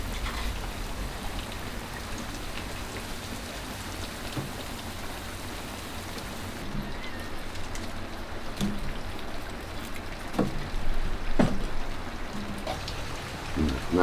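Steady rain falls across open countryside in rural Uruguay, a dense, continuous patter with slightly heavier drops and splashes toward the end and no voices.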